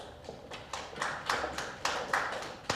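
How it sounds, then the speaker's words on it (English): Sparse, quiet hand claps from a small audience at a company launch event, landing as separate distinct smacks at a loose, irregular rhythm. "A round of applause, please, folks."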